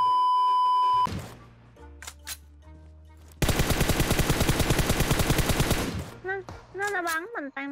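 Rapid machine-gun bursts in PUBG Mobile, a dense, loud stream of evenly spaced shots lasting a few seconds, preceded by beeps and game tones and followed by scattered electronic sounds.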